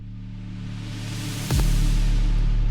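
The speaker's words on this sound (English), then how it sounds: "cymbal roll, but it's a synthesized cymbal roll." A synthesized cymbal roll with reverb at a flat, steady level: a sustained shimmering wash that holds even, then a sharp swell and hit at the end, leaving a loud, sustained ringing tail alone with no talk.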